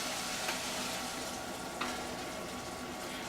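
Lemon juice and ice wine hit a hot sugary pan, giving a steady close sizzle with a couple of brief scraping clicks as the pan is deglazed, no talking.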